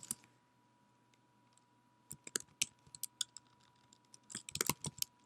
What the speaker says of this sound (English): The next thing you want to do is type in your message to Faye